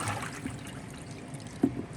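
Water draining out of a pot after cooling cooked wild game meat, a steady soft trickle and splash with one sharper slosh near the end.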